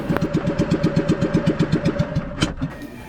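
A small fishing boat engine is being warmed up. It chugs at a rapid, steady idle close by with regular loud thumps, and a sharp knock comes near the end.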